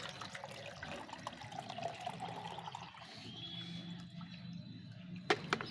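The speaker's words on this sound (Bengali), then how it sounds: "এখন আমি এই জলটাকে ছেঁকে নেব এ ভালো করে হাত দিয়ে এইভাবে ছেঁকে নেব" A bucket of water is strained by hand for watering garden plants, giving continuous close splashing and trickling with a brief louder splash near the end.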